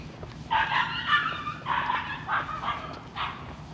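Several dogs bark noisily in repeated bursts of yaps and yips, some whimpering mixed in, fairly close and with no talking over them.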